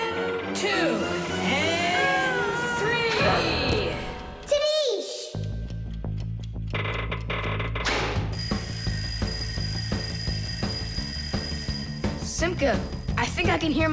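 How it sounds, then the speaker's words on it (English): An alarm rings in a children's cartoon amid jangling mechanical clatter and cartoon voices, then settles into a continuous, steady bell-like ringing that persists loudly over the second half. "can hear my alarm ringing."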